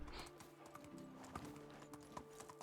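Donkey hooves clip-clop steadily in Medieval Dynasty, a medieval farming game, with a rhythmic train of close footfalls over light ambient noise.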